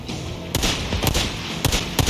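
Gunfire in the Days Gone video game at an old sawmill during a zombie fight: four sharp, loud shots at uneven intervals over a steady background rumble.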